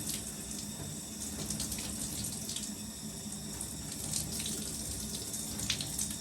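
A tap runs steadily as water rinses hair during washing, a continuous hissing splash at moderate level with no pauses.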